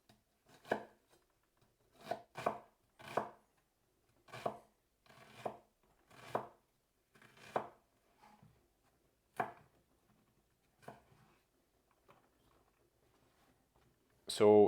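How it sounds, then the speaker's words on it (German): Knife chopping a small onion finely on a board for beet and green bean salads, about a dozen sharp, close cuts in irregular bursts, fading to sparse taps near the end. "Also für beide Salate reicht eigentlich eine kleine Zwiebel."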